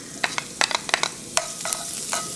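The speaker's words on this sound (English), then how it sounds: "fry them until they're golden brown" Garlic frying in a hot pan, a bright crackling sizzle broken by sharp spitting pops and stirring scrapes, close and loud with no talking.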